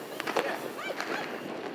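New Year firecrackers and fireworks go off in succession outdoors, a string of pops and crackles with a faint whistle, heard at a distance over a busy background.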